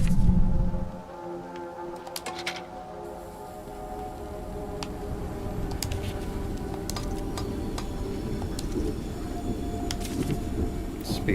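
A moving train in the video game Choo-Choo Charles rumbles steadily and fairly loud throughout, with a low rolling drone, clanks and metallic ticks over it, after a brief louder burst at the start.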